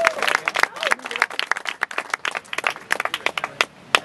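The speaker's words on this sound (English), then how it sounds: "Let's give them a round of applause." Scattered claps and cheers from a small group honoring the first bungee jumpers at an outdoor bridge site, uneven bursts of clapping mixed with voices and shouts, fairly close.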